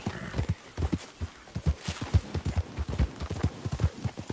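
Horse hooves clip-clopping steadily in Red Dead Redemption 2, a close, even rhythm of hoofbeats at walking pace, heard alone.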